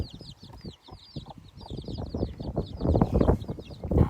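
A hen and her chicks on a farm: steady high peeping from the chicks runs throughout over low, busy clucking and scratching close by, growing louder toward the end.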